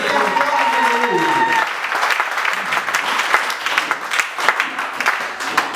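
A church congregation applauds and acclaims the Lord, loud sustained clapping with voices rising over it; a held sung or shouted tone opens the burst before the clapping continues alone.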